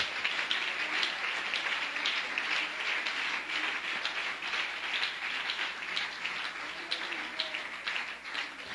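A church congregation breaks into sustained applause, a dense, fairly faint patter of many hands clapping at once that holds steady throughout, with no talking over it.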